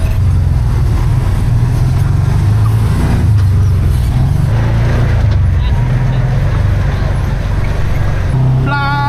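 A UTV driving off-road at night on Hell's Revenge trail in Moab, with a steady loud engine drone and rumble, wind and rattling throughout, a voice speaking faintly over it.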